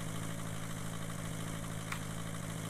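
A vehicle engine idles in the video game The Long Dark, giving a steady, continuous low hum with a faint vibration throughout and no talk.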